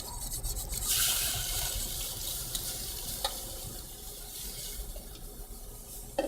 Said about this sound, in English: And then you take the milk and you just pour it in.